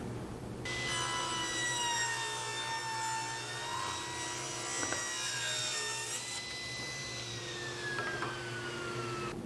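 A table saw rips a 1.5 inch hardwood strip, maple or cherry, free from a wider pre-rabbeted board for shelf edging: a steady high whining cut lasting several seconds, with the blade pitch shifting as the cut finishes, no talk.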